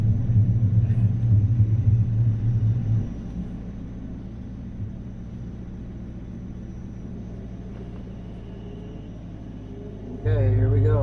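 A cammed Dodge Challenger R/T races an Acura, its loud, choppy low rumble dropping to a steady drone for several seconds before surging again near the end.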